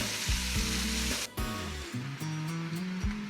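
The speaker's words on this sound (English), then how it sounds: "we've got our cabbage cooking down" Cabbage with sausage and bacon sizzles loudly and steadily in a skillet, with a few scraping stirs and utensil knocks cutting through the close, continuous frying hiss.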